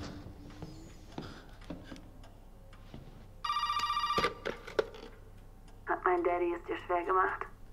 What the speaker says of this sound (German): Oh, jetzt klingt das Telefon schon wieder.